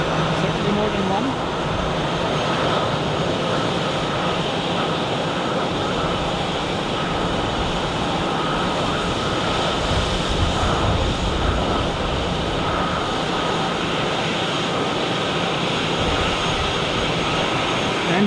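Jet airliner noise at Zurich airport at rush hour, heard from observation deck B: a steady broad roar that holds evenly throughout, fairly loud but without a clear pass-by.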